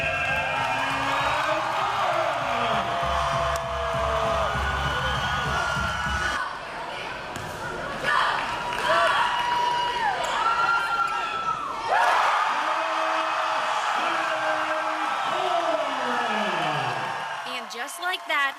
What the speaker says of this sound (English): Just like that, the crowd goes wild.